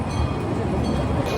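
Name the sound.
amusement park ride-on train moving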